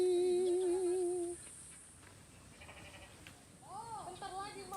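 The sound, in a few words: sheep bleating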